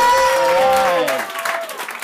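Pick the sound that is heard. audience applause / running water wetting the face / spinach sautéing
audience applause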